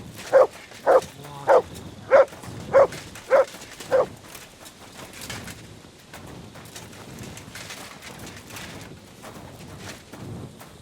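Mutt the dog barking in the video game Kingdom Come Deliverance 2, seven loud evenly spaced barks in quick succession, followed by quieter background movement and faint voices.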